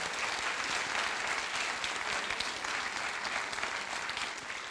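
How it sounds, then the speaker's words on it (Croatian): A theatre audience gives a sustained burst of dense applause at an evening performance, loud and steady from start to finish, with many hands clapping together and no voices on top. "molim vas jedan aplauz za Gogu."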